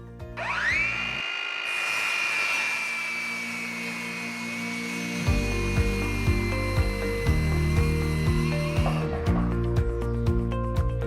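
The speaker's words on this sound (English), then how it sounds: "Here I'm using a circular saw and a speed square" A circular saw guided by a speed square spins up with a rising whine, then bites into wooden boards for a sustained cut before the motor winds down amid clunks of the boards.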